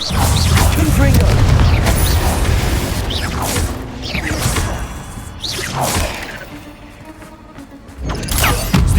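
Confringo blasting spell explosions in Hogwarts Legacy, with loud booming blasts and whooshing bursts rolling in repeated waves among continuous game combat noise.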